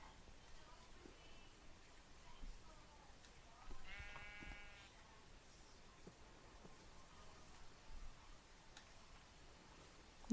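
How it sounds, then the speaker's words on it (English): Sheep in a Minecraft world give a short harmonic bleat, one clear call alone over a quiet background with a few soft ticks around it. "Lots of cows, lots of sheep."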